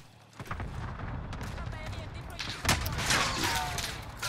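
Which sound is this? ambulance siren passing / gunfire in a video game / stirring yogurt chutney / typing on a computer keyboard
gunfire in a video game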